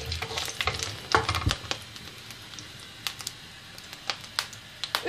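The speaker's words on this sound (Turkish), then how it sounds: "Isınan tavamıza 4 diş sarımsak, 1 büyük soğanı 4'e böldüm, onu da ilave ediyorum." Garlic cloves and a large quartered onion frying in a hot pan of oil give off a soft, close sizzle broken by scattered clicks and pops, with no talk over it.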